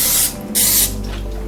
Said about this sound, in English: You're going to shake this with a spray, vegetable spray.